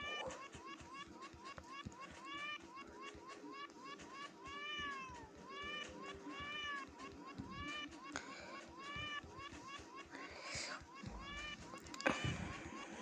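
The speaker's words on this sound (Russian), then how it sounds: "Можно еще мяуканье услышать" Cats meow in the Battle Cats video game, with repeated sweeping cartoonish cries over busy, bouncy game music and effects.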